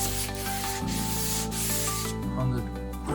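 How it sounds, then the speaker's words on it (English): Hand sanding of Porsche 914 body panels with 400-grit sandpaper, a steady close-up rubbing and scraping that runs unbroken over a low background hum. "Now I'm doing the final sanding of 400"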